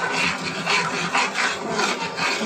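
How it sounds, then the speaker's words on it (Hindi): Ground chana dal paste being stirred steadily into a fried spice mixture in a cooking pot, giving a continuous scraping, rasping rub with rhythmic strokes about every half second, fairly close and loud with no talking. "बराबर से चलाते जाएंगे ताकि गुठली ना बने।"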